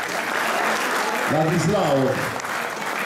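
Theatre audience applauding at a film presentation in the Teatro Partenio in Avellino, a steady wash of clapping from many hands while someone speaks over it partway through.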